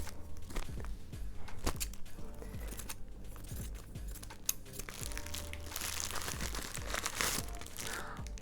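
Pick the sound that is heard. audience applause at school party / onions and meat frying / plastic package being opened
plastic package being opened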